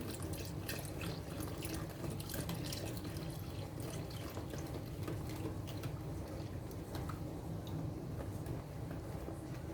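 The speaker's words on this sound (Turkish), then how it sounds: "Şimdi sütümü ekliyorum" A milk and water mixture pours into a bowl of flour with sugar for Ramadan pide dough, a faint continuous trickling and splashing that runs steadily throughout.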